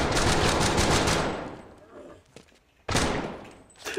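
Rapid bursts of automatic gunfire from the VR shooter game Death Horizon: Reloaded, loud and dense at the start, fading through a quieter gap, then a second sharp volley near the end.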